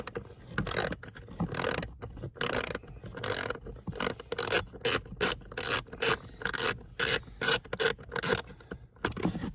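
A ratchet with an extension works loose the screws on a Chevy Silverado or GMC Sierra blower motor resistor, close rapid bursts of clicking and grinding repeated in a choppy rhythm, no talking.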